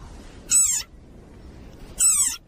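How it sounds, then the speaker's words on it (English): Desert rain frog squeaking, two separate shrill, buzzy squeals about a second and a half apart, each lasting roughly a quarter second, close and loud against a quiet background. "Like this desert rain frog. Squeaking viral sensation."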